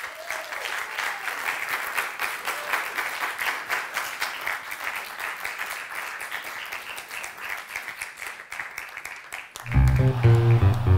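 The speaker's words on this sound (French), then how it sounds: "je demande d'applaudir le jury qui vient de délibérer" An audience at a comedy show gives the jury a long, steady round of applause, dense and sustained for about ten seconds before a loud burst of music cuts in at the end.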